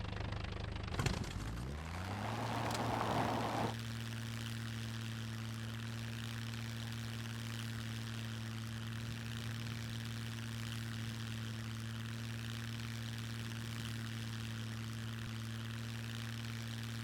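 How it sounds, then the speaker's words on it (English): A propeller plane in the survival game SCUM spools up from a start-up whine into a steady, droning engine hum that holds evenly, close and continuous with no talk. "So this plane does not like landing or taking off on the ground very good."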